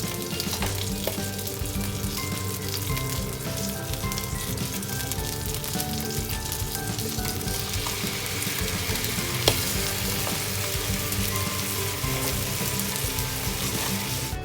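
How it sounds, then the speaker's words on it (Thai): Salmon frying in a pan with teriyaki sauce, a steady dense sizzle running throughout with faint stirring clicks and no speech. "เดี๋ยวเราเอาน้ำซอสเทริยากิเทลงเลยค่ะ คนๆก่อนนะคะ"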